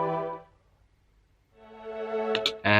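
A spiccato violin strings preset from Expand sounds in a beat: a few held, bowed-sounding string notes with a gap between them, ending on a brighter cluster, fairly soft and without voices.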